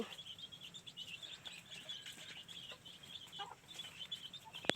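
Chickens on a small rice-field farm that also keeps ducks and pigs, heard as faint, scattered clucks and light chirps over quiet outdoor background, with no talking.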